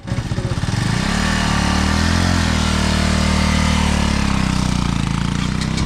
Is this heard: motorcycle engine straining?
yes